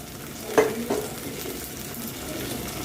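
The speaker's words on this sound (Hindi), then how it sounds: "बिल्कुल हल्का सा टमाटो प्यूरी को सौते करेंगे" Precooked tomato puree sautéing in a pan, a soft continuous sizzle with a couple of sharp spoon taps against the pan early on, close and moderately loud.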